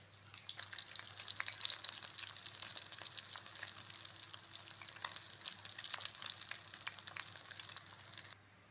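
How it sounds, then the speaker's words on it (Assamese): A local egg sizzles and fries in hot oil in a pan, with a steady crackling hiss and frequent sharp pops spread across the whole stretch, quiet and close. "এয়া চাওক কণীটো ফ্ৰাই কৰা হ'ল"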